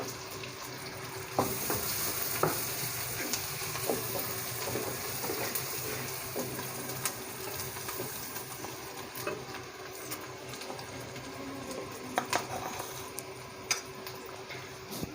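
Chopped onions frying in a pan for lobia keema give a steady, close sizzle and crackle throughout, with occasional scrapes and clicks of stirring.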